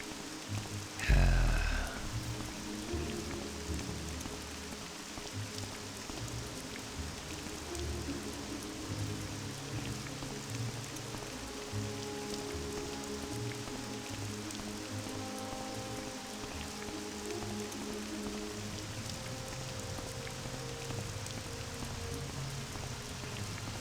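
Steady rain pours throughout in The Elder Scrolls III: Morrowind, a continuous even hiss with a brief louder thump near the start.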